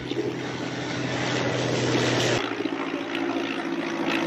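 A 1926 propeller biplane in flight during a stunt with a wing-walker, a steady loud engine drone and propeller roar that holds throughout and shifts in pitch partway through.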